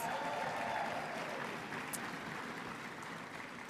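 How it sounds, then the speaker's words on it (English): Conference audience at an ESP opening session gives a round of applause, a soft, continuous wash of distant clapping that stays steady and fades slightly toward the end. "give them a round of applause"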